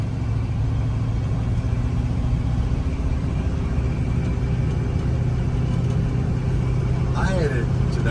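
A 1977 GMC Jimmy with a 350 turbo transmission rounds an S curve, its engine a steady low rumble with road noise heard from inside the cab, continuous and fairly loud, while someone talks over it.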